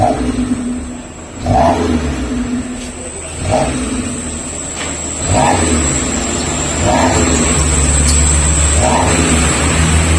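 A car fitted with an aftermarket exhaust revs repeatedly at low RPM, about six short throttle blips rising over a steady idle rumble, heard up close.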